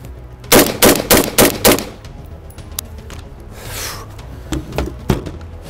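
An LMT MWS rifle firing 6.5 Creedmoor outdoors, five loud sharp shots in quick succession, followed by quieter handling noises and a couple of faint knocks.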